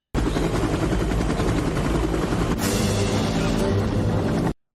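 A helicopter from the 1987 film Predator flies with a dense, continuous rotor roar and engine drone that fills the scene, loud and steady with a sharp burst partway through.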